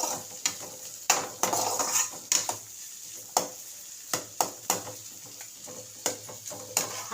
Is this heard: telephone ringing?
no